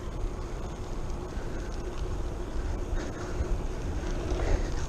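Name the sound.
wind blowing during a bike ride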